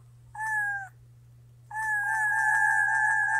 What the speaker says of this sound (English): Ultimate cat meows.